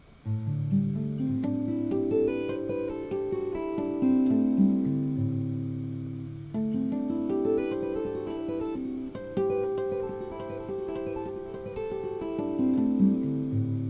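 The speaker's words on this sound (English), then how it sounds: "you can start adding hammer-ons and pull-offs." Guitar harp harmonics ring out in bell-like tones, with quick hammer-ons and pull-offs weaving between them in a continuous, flowing phrase.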